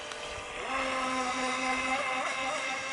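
A small toy motor boat whines steadily on open water, its thin high-pitched motor buzzing continuously with slight pitch shifts, wind noise washing over it and no voices.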